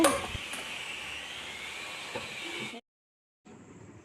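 A grinder or blender runs as green chillies and ginger are ground into a paste, a steady whirring hiss that stops abruptly, then a fainter whir starts up after a short silence.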